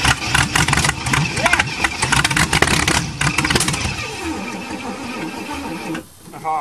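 An old Chevrolet engine is cranked for a cold start with choke and pedal pumping, a rough sputtering, uneven mechanical chatter up close, fading toward the end, with someone talking over it.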